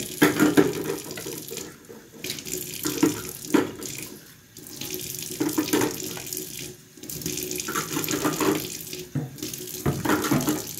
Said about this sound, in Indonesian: kita bersihkan di air mengalir.